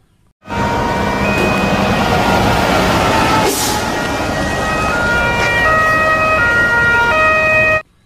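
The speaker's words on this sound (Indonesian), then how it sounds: "Ini adalah truk damkar" A toy fire truck siren wails steadily and loudly, its electronic tones shifting in pitch, playing alone for several seconds before cutting off abruptly.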